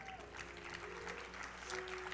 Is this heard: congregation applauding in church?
yes